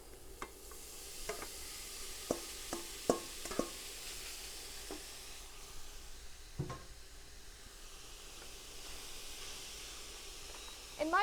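Tofu scramble in a skillet over medium-high heat, giving a soft steady sizzle broken by scattered clacks of a utensil stirring against the pan.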